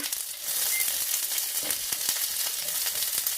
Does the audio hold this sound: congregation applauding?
no